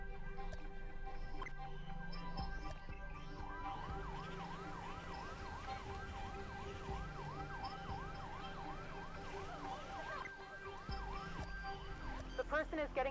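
Ambulance siren from the Fire Commander video game, a steady wailing tone rising and falling in repeated sweeps over a constant background hum of game sound.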